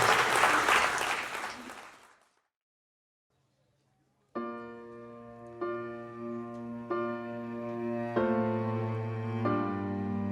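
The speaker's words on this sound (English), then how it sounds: "Ladies and gentlemen, big round of applause for Frank." Guests at a wedding reception clap loudly for about two seconds, then the clapping fades to silence before sustained musical tones begin.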